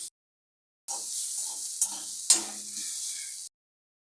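Fried bottle gourd peel with coriander leaves is stirred in a pan, giving a short burst of soft sizzling and a couple of sharp spatula scrapes, close and fairly quiet, with silence before and after.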